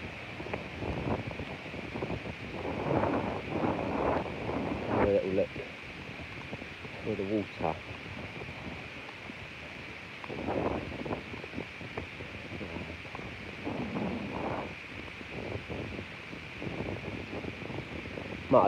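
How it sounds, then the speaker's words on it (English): Gusting wind buffets the microphone on a muddy River Medway shore, a steady roaring rumble with stronger surges, while a person talks intermittently over it. "The wind's picking up now."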